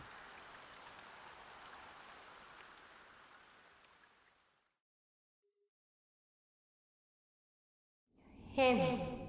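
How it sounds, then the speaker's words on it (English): Steady rain falling in a remade JRPG video game: a soft, continuous hiss that fades out over about four seconds into silence, followed by a brief burst of another sound at the end. "Lo, the rain does fall, and soon enough the sun too shall fade."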